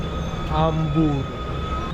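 The Kovai Express 12676 passenger train runs between Jolarpettai and Chennai, a steady close rumble of wheels and carriage with people talking over it.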